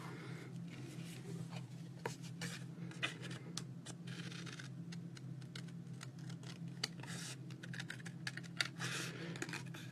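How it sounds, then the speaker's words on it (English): Scissors cut out a paper artist trading card close up, a run of quick snipping and rustling paper clicks over a low steady hum, with no talking. "let's get my scissors, because I'm going to cut him out"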